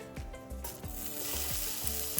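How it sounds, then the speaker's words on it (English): A hot pan sizzles steadily and close up, with a hissing crackle that grows slightly louder while a few soft scraping strokes repeat underneath. "Can you hear the sizzle?"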